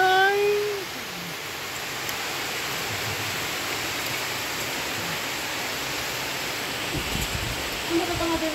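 Heavy rain pouring down during construction of a house staircase, a dense, steady hiss that holds evenly throughout, with faint brief sounds in the background.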